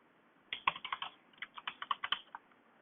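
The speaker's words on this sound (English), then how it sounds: "Enter the username and password." Username and password typed on a computer keyboard to sign into desktop reference software: a quick burst of about a dozen crisp, close key clicks in an irregular rhythm, alone in a quiet room.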